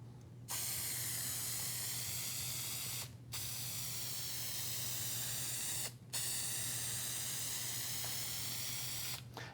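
Adhesive sprayed onto the back side of a laminate sheet for a router table build: steady, close hissing spray in three long bursts separated by brief pauses, with a low hum beneath.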